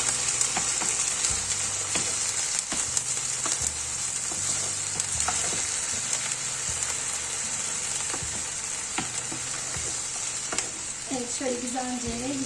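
Purslane frying in a pan over low heat, stirred steadily; a constant sizzle runs throughout with repeated scraping strokes of the spoon, and a brief voice-like tonal sound rises near the end.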